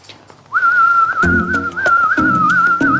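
A person whistles one steady, wavering high tone to prompt a racehorse to urinate for a post-race urine test, with soft thumps and shuffling close by.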